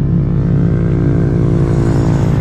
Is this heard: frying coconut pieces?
no